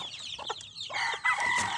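Chickens cluck in short bursts close by, then a rooster's crow rises above them, lively and unbroken, with no talking.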